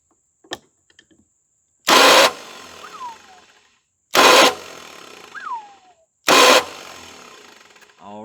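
A 1978 Ford Fairmont that sat for 35 years cranks with the choke on: three loud bursts of starter cranking about two seconds apart, each followed by a brief falling whine, with clicks before the first.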